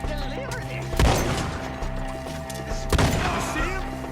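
Gunfire in a video game as enemies up in the trees are shot at: two loud, sharp booming shots about two seconds apart, over a continuous busy game ambience and faint voices.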